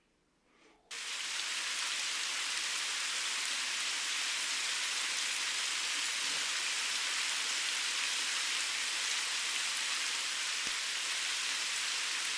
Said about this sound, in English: It's rain, right?